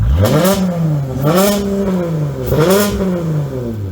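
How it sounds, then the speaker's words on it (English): A car engine with an active exhaust system revs up and down repeatedly, three rising surges of loud, throaty roar with a steady idle rumble between them, close by. "So even when you're revving it"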